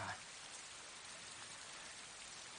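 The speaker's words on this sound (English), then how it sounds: "Let's watch the rain scene, people." Steady, even hiss of rain falling, constant and fairly quiet throughout with no distinct drops standing out.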